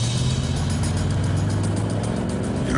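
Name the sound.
car approaching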